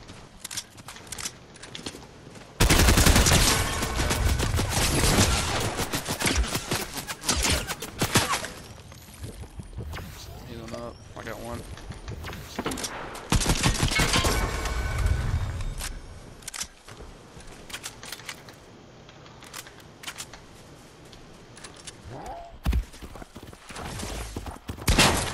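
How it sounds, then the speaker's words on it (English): Gunfire crackles through a Fortnite duos match, with loud bursts of shots from a hilltop enemy, heaviest early and again midway, mixed with softer game noise and footsteps in between. "His buddy's shooting from the top of the hill though, so be careful."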